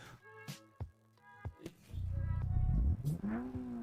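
A Mitsubishi Lancer in the racing game Japanese Drift Master, with a few short blips of the engine followed by a sustained, slightly muffled rev that rises and then falls away, close and fairly loud.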